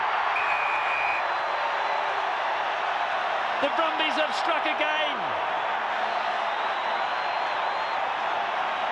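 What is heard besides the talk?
rugby stadium crowd cheering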